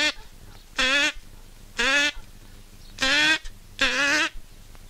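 Four loud, drawn-out nasal calls from human voices imitating duck quacks, evenly spaced, each about half a second long, standing alone over a quiet outdoor background.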